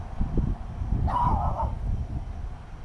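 A small dog gives one short, high yip partway through, over a low, rumbling background.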